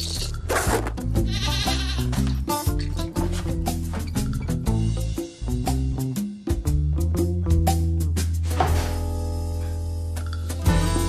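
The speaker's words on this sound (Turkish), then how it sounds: "Kendisi yetmezmiş gibi bir de bahçeye keçi bağlamış." A goat tethered in a garden bleats loudly and repeatedly, wavering cries following one another close to the microphone with no talk over them.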